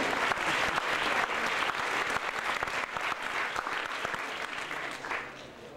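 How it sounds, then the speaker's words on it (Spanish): Sustained applause from a seated audience at a book presentation, thick and even clapping that holds for several seconds and then thins slightly toward the end. "Un aplauso para él, ¿no?"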